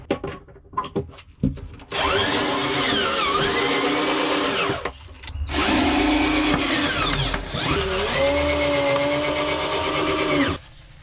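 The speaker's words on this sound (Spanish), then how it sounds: "acá estamos poniendo los tornillos para sujetar el piso" Power drill driving screws to fasten down a bathroom subfloor during a renovation, in three long whirring bursts with pitch sweeping up and down as each screw sinks, separated by short pauses, close and loud with no talk.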